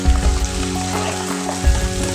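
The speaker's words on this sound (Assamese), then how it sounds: "মূৰখিনি ভালকৈ ভাজি ল'লোঁ আৰু ইয়াতে এতিয়া মই তিয়াই থোৱা দাইলখিনি দি দিম" Soaked lentils fry in hot oil in a pan over sautéed onions, giving a steady close sizzle with crackling spatters all the way through.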